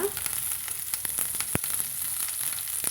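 Mustard seeds popping, then shallots and curry leaves frying in oil for a chayote curry, a steady close sizzle with scattered faint pops and one sharp crackle midway.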